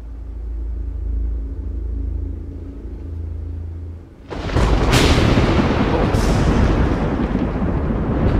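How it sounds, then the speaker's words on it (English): A deep rolling rumble of thunder from an approaching storm, starting low and steady, then breaking into a louder, broad crackling roar that lingers and fills the space. "Don't you hear the thunder?"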